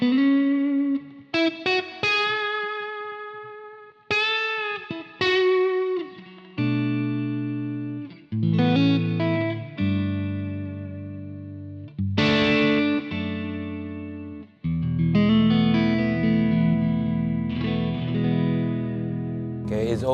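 Electric guitar plays chords and single notes through a DSM & Humboldt Simplifier X amp simulator pedal with a processed, slightly distorted tone, separated by brief gaps, ringing out clearly with no voice.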